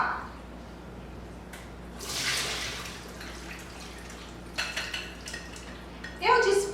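Soaking water drained off beans into a sink, with splashing and dripping, a clatter of a pot or dishes, and a louder rush of pouring at the end.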